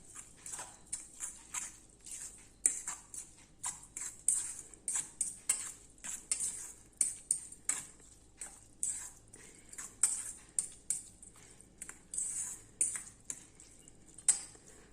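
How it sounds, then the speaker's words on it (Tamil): A spoon clinks and scrapes rhythmically against a bowl, stirring wheat rava and flattened rice batter with water, steady with repeated soft taps, close and fairly quiet. "நல்லா மிக்ஸ் பண்ணி விட்டுறலாம்."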